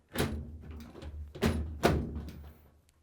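A Whirlpool washer top is lowered and locked, giving several hollow metallic thunks and bangs over a few seconds with a low rumble between, fairly close and loud.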